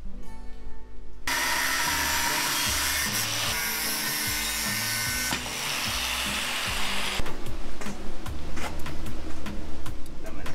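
A power tool cuts through a steel angle bar for a small DIY dog kennel frame, grinding harshly and continuously at close range, shifting pitch as the blade bites and eases through the metal.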